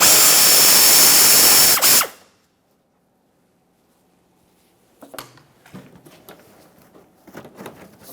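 A power driver spins out a T15 Torx screw from a 2017-2024 GMC Acadia front bumper cover, a loud whir that stops abruptly, followed by silence and then light clicks and plastic handling noises.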